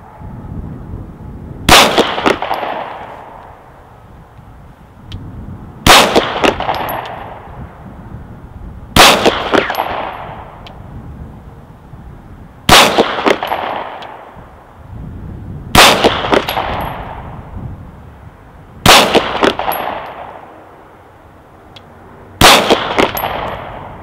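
Seven sharp, loud shots from a stock Glock 19 firing Speer G2 147 gr 9mm rounds, evenly spaced about three seconds apart, each a crisp crack with a metallic ring that decays before the next.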